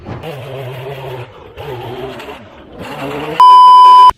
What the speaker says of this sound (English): It is the sound of Shahed 136, a kamikaze drone made of plastic and wood.